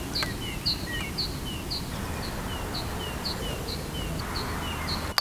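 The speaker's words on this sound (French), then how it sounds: "En plus on entend les oiseaux chanter" Birds sing outdoors in a grassy park at dusk, a series of bright, evenly spaced chirps repeating at a moderate distance over a low background hum.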